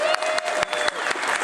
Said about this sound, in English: let's get some applause as I say some cities here